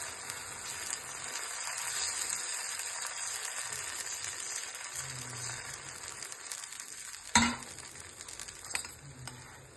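Wheat dosa batter sizzles on a hot stone griddle as a steady, fairly quiet hiss, with a sharp clink partway through and a few light taps later.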